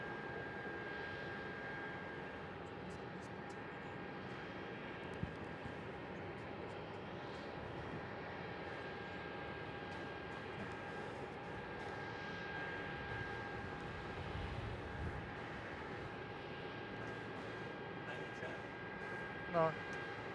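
An Airbus A321 passenger-to-freight conversion operated by Express Freighters Australia departs Melbourne Airport, its engines a steady, distant broadband roar that holds evenly throughout, with faint radio chatter underneath.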